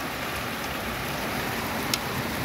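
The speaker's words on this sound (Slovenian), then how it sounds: "sedaj dežuje že bolje, pa bolj obilno" Heavy rain pours steadily in Ljubljana during a hailstorm, a dense, even hiss of falling water with no voices, constant and close throughout.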